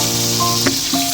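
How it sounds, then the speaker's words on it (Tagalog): Chicken wings fry in a thin layer of oil, giving a steady, close sizzling hiss under a faint, constant tonal hum, with a couple of brief swells. "So start na natin mag-fry. So ilagay na natin lahat para minsanan ang pagprito."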